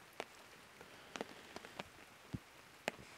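Heavy rain on a camping tent, scattered drops striking the fabric in irregular close taps over a faint steady patter, with no voices.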